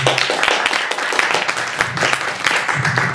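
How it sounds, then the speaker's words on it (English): Dense, steady audience applause fills a beatbox and spoken word event, a crowd clapping loudly and continuously throughout with a low murmur of voices underneath. "Another round of applause"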